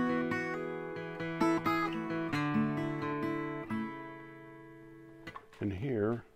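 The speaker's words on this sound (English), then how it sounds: "normal mic sound of the guitar." Acoustic guitar captured by a microphone rather than a soundhole pickup, strummed chords and picked notes ringing cleanly and close, with a person's voice briefly at the end.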